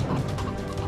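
Chickens cluck in The LEGO Movie Videogame, a dense, steady run of close clucking that fills the whole moment with no pauses.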